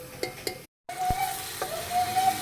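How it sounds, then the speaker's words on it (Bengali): Ginger-garlic paste being stirred into onions frying in a pan, a soft, steady sizzle with a few scraping strokes of a spoon and one brief cut in the sound partway through. "আদা রসুন বাটা আর পেঁয়াজটাকে আমরা একটু ভালো করে মিক্স করে নেব"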